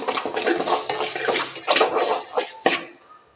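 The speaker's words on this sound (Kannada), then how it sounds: "ತುಪ್ಪ ಹಾಕ್ಕೊಂಡು ಹುರಿಯೋದ್ರಿಂದ ಚೆನ್ನಾಗಿರುತ್ತೆ ಈ ಥರ ಹುರ್ಕೋಬೇಕು" Vermicelli being roasted in ghee in a pan, a loud, close, continuous scraping and rattling of the strands stirred against metal, with a few sharper clanks near the end.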